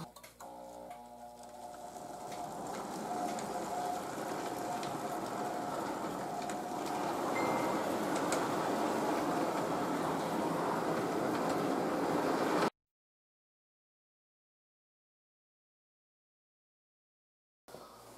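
A Lionel O gauge model train runs steadily on a layout, its rattling, clicking hum growing slightly louder, then the sound cuts off into silence.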